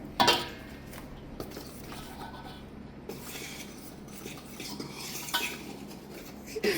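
Baking powder mixed into flour in a bowl for a Jamaican Easter Guinness stout spice bun, a continuous close stirring and scraping with occasional utensil clinks against the bowl, no voices.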